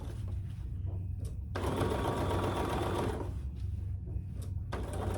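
A sewing machine stitches along a seam of a fabric tote bag, a fast steady mechanical whir with needle clatter close by, briefly surging louder midway, with no talking.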